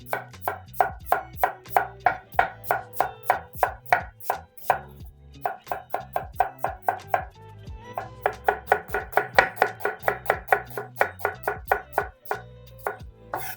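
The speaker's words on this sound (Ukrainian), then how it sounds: "Далі ріжемо цибулю." A knife chops an onion into half-rings on a board in quick, steady rhythmic strokes, loud and close, with one short pause partway through and no talking.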